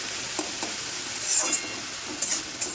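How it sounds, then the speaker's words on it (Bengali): Fenugreek greens with potato and eggplant sizzle in a pan, the close steady frying broken by several quick scraping stirs, with no voices. "এখানে আলু বেগুন দিয়ে মেথি শাক ভাজা করছি"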